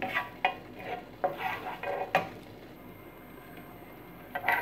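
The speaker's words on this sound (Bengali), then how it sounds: "গরম মশলাটা একটু ভাজা হলেই আমি এর মধ্যে আমার রাইসটা দিয়ে দিব" Garam masala frying in two tablespoons of ghee in a pan, with a soft sizzle and several sharp stirring clinks and scrapes spaced irregularly, close but quiet, with no voices.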